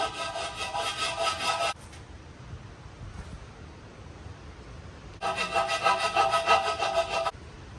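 A hand file scrapes across damaged bodywork on a widebody Mustang, knocking down bumps before sanding, in two bursts of steady, close rasping strokes with a quieter pause between them.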